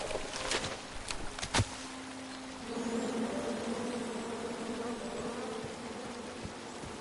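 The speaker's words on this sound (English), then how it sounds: "And then you chop down the tree full of angry bees?" Angry bees buzzing in King's Quest, a continuous droning hum that settles in after a few sharp knocks at the start and holds steady to the end.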